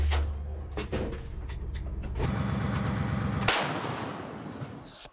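A howitzer fired by soldiers fighting off a Russian attack lets off several sharp, booming blasts spaced a second or more apart, each with a broad crack and a lingering low rumble.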